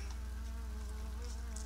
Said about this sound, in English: Well, that is a bee up there.